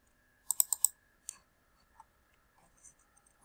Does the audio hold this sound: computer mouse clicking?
yes